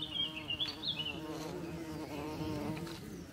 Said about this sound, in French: Oh, il y a une abeille.